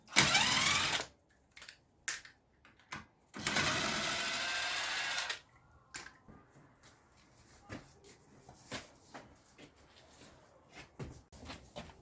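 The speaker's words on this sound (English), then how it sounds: "just get your impact out and just start taking them off" An impact wrench rattles off the wheel nuts on a Jaguar X-Type, with two loud buzzing bursts of a second or two each, followed by quieter clinks and handling noises nearby.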